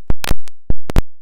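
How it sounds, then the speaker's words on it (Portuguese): Microphone dropping and knocking around inside a car, giving a handful of sharp, loud thumps and clatters in irregular bursts with brief quiet gaps between them, close to the mic. "Desculpa o barulho, o microfone caiu dentro do carro."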